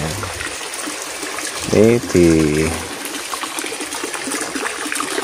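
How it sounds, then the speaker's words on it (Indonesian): Water flows steadily at a spring beside a cintung, a catchment built in the Dutch colonial era in the 19th century, as a continuous close rushing wash with a brief voice speaking partway through. "ini adalah sumber mata airnya"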